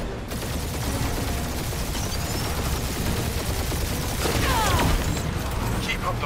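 A dense, unbroken gunfire barrage rages through a spaceship battle in the video game Guardians of the Galaxy, with rapid shots and booms blending into a loud, continuous roar.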